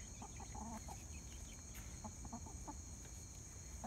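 Soft clucking from a few free-ranging hens, faint and somewhat distant over a steady background hum, with scattered short calls.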